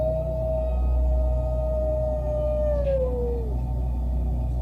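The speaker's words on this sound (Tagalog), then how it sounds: "nang marinig ang nakakakilabot na alulong na yon ng aso" A lone dog howls in one long, wavering, drawn-out note that slowly falls in pitch and fades at the end, eerie and distant over a low rumbling background.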